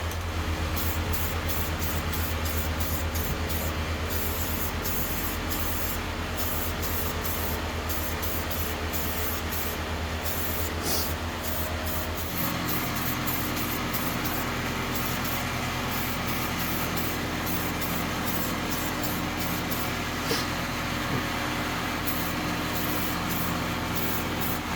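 Rust-Oleum satin protective enamel sprays onto a firewall in a continuous hissing burst, with short pauses and rapid trigger pulses partway through, close and steady.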